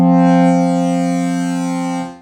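A bright, buzzy synthesizer note with the filter envelope turned well up, held for about two seconds, rich in upper harmonics, slowly fading slightly before stopping.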